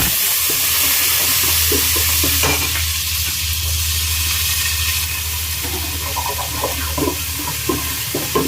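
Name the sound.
onions frying in oil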